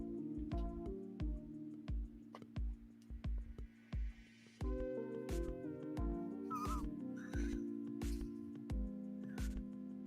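Cat in a room during a live stream, meowing faintly and repeatedly, with ticking clock-like clicks and quiet room tones underneath.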